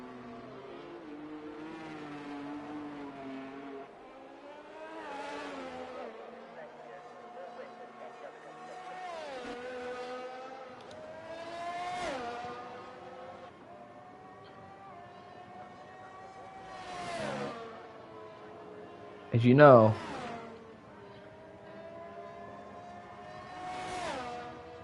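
Formula 1 race cars in a game run slowly behind the safety car at Spa, engines humming and revving in rising and falling tones, with repeated pass-bys, under steady commentator talk.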